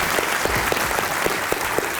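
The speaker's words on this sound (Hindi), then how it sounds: "तालियां बजा रहे हो अपने लिए" Applause from a studio audience on a Pakistani comedy talk show as a guest is welcomed, steady clapping with a few sharper claps standing out, continuous and fairly close throughout.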